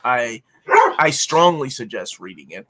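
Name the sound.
dog barking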